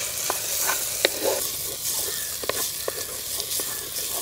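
Tomato, green chilli and ginger pieces fry in a pan with a steady sizzle, broken by a few sharp scrapes and taps of a spoon stirring at close range, no voices.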